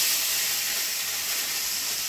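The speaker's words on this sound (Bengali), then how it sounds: "তেল নাকি গরম হয়ে গেছে, তো হ্যাঁ, মাছগুলো আমি অল্প অল্প করে ভেজে নেব।" Small mixed fish fry in hot oil, making a continuous, steady hiss of sizzling at moderate loudness with no other sounds.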